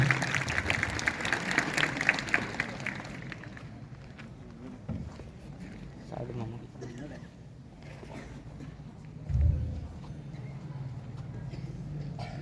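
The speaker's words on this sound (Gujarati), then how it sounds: "જોરદાર તાળીઓના ગડગડાટથી તેમનું સ્વાગત કરીએ" An audience at a school ceremony applauds to welcome a speaker, a dense patter of clapping for the first few seconds that fades out, followed by quiet hall noise and a few soft knocks.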